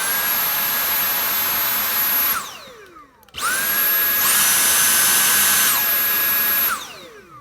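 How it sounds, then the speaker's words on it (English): A Dyson V8 Animal cordless vacuum on max mode spins up into a loud, high, whining rush with steady tonal whistles. It runs a few seconds, winds down, then starts again and sustains before spinning down. "And the V8 on max."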